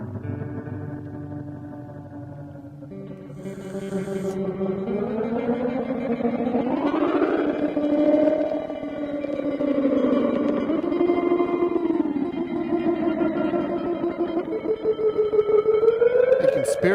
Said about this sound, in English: It doesn't get much more old school than a beautiful old Tape Echo with 3 heads.